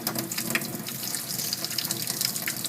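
Faucet water runs steadily into a sink while a Persian kitten is rinsed during a bath, a soft continuous splashing heard close by with no voices.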